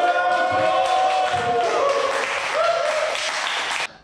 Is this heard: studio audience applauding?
yes